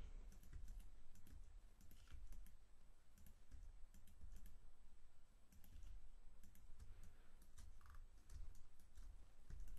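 Rapid clicking of a computer mouse and keys during 3D modeling work, dense bursts of quiet, close taps continuing throughout with brief pauses, no voices.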